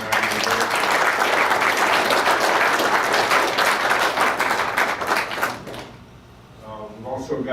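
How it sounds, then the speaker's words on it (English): A crowd applauds with dense, sustained clapping that fades out toward the end, leaving quieter room sound. "So if I could get a round of applause for Maddie."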